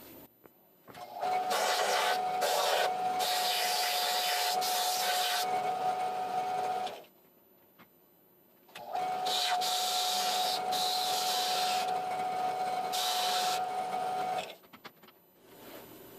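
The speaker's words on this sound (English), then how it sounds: "I'm just going to shave that down on my sander real quick" A power sander shaves down a wooden handle blank for a shop-made stubby screwdriver, sounding as two loud, steady whirring runs of several seconds each, with a short quiet gap between them and no talk.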